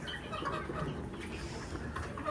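Native chickens clucking on a farm where they are raised in confinement, a dense, continuous flock murmur with overlapping calls, fairly steady and moderately close, with no talk over it.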